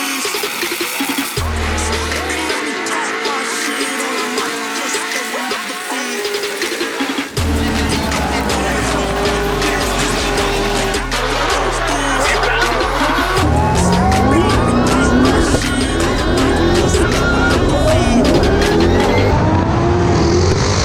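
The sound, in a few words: race car driving a practice run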